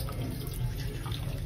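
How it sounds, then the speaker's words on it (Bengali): A tap runs steadily into a sink while hands are washed in a restaurant washroom, a close, even rush of water with no voices. "চলো গিয়ে আগে হাতটা ধুয়ে নিই।"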